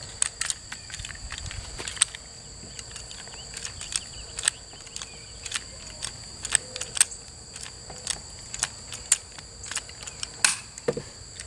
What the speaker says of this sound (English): I'm going to go ahead and ratchet one of these off